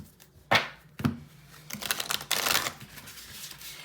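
Tarot cards shuffled by hand in a short, uneven burst: a couple of sharp riffling snaps followed by a longer stretch of papery crinkling and flicking, close and fairly quiet.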